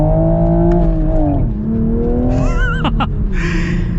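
A manual Toyota Supra sports car accelerates hard, its engine note climbing, dipping briefly at a gear change, then rising again with a whining, whistling edge. The sound is loud and close, with no talking.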